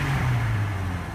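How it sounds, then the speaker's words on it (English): A 1998 Jeep Cherokee Sport engine revs briefly and close by, its low steady drone sliding slightly downward in pitch over about a second, with no voices. "Give her a few revs here, see what she sounds like."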